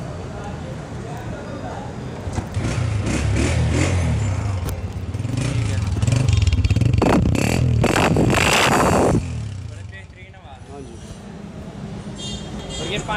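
A used Honda 125 motorcycle engine at an outdoor used-bike market in Lahore is started and revved loudly for several seconds, then drops back to idle, with clattering and street noise around it.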